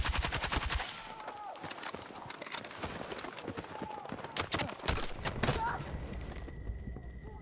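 L85 rifle fire in the video game Battlefield 6: rapid, loud automatic bursts in quick succession with scattered battlefield noise and a player talking over it.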